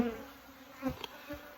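Honeybees buzz close by during a spring beehive inspection, a brief steady droning hum with a few louder passes, and no talking.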